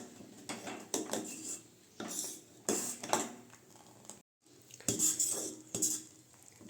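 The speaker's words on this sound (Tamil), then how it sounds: "நட்ஸு சேர்த்ததுக்கப்புறம் ஒரு 5 நிமிஷம் கைவிடாமல் கிண்டி விட்டுக்கிட்டே இருக்கலாம்" A spoon stirs boiling milk with nuts in a metal pot while making kulfi, giving close, intermittent scraping and clinking strokes against the pot, with short pauses between them.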